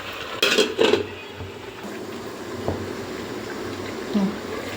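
A lid clanks down onto a cooking pot of chicken kosha with fried potatoes, giving a few close metallic knocks and rattles early on, then a softer bump, over low kitchen background noise.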